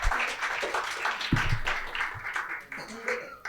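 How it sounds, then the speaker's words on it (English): Audience applause for a guest invited onto the stage at a literature festival panel discussion, a dense, steady wash of clapping throughout with some crowd voices mixed in. "Ladies and gentlemen, please give a huge round of applause."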